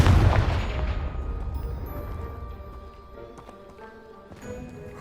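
A Confringo blasting spell explodes in Hogwarts Legacy with a loud, heavy boom at the start. The blast decays into a long rumble with scattered debris clatter and small ringing tones that fade over several seconds.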